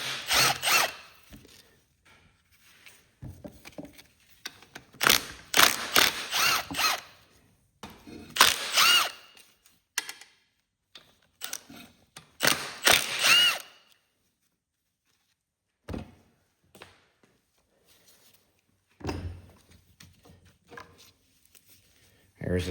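Bursts of quick ratcheting clicks come from a ratchet and 5/16 socket loosening the stator bolts on a seized Kohler Magnum 18 engine, close up and separated by pauses with some quiet knocks.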